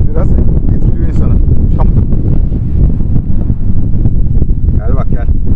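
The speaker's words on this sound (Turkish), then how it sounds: "Rüzgar var. Biraz etkiliyor insanı." Gusty wind buffets the microphone outdoors beside a grill where beef bratwurst sausages are cooking, a loud continuous roar with occasional faint higher sounds over it.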